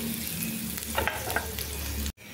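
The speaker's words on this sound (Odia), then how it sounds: "ଏବେ ସେଥିରେ ରସୁଣ, ଅଦାକୁ ମୁଁ ପକାଇଦେଲି। ଫାଷ୍ଟ କଞ୍ଚା ସ୍ମେଲ୍ ଗଲା ଯାଏଙ୍କୁ ଭାଜିବା।" Garlic and ginger fry in hot oil in a pan, with a continuous close sizzle and a brief cluster of stirring scrapes partway through before the sound cuts off abruptly.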